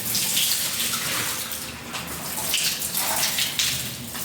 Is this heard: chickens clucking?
no